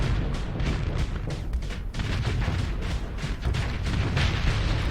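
Ships firing and mines exploding in the Starsector space combat game produce a dense, continuous barrage of heavy booms and blasts, loud and rumbling.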